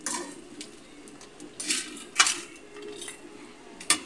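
A spoon stirring vegetables and chicharon in a cooking pot, giving scattered clinks and scrapes of metal on metal at an uneven pace, fairly quiet and close.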